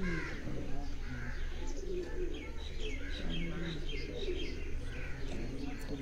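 Old Kasuri pigeons coo in a low, continuous chorus on a farmhouse, with chirps and caw-like calls from other birds layered above and a voice talking faintly in the background.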